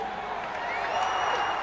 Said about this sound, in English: the piped-in crowd noise here is absolutely abysmal